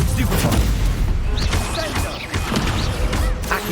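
Stupefy spell cast in Hogwarts Legacy, game combat full of bursts, thuds and crashing hits with sharp whooshing accents scattered across the stretch, a voice also speaking over the loud, busy effects.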